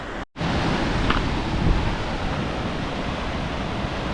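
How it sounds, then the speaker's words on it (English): A steady, loud roar of rushing water from a waterfall close by on Ko Chang, Thailand, continuous throughout after a brief dropout at the start. "So I can hear water."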